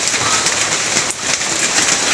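Steady heavy rain pouring down in Apa-Apa, Agusan del Norte, Philippines, a dense continuous hiss with a brief dip partway through, close and loud with no voices.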